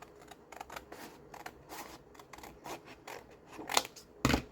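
Scissors snip through paper while a double pocket is made from book pages, a series of short, crisp cuts at irregular spacing, close and moderately quiet, with a louder final snip.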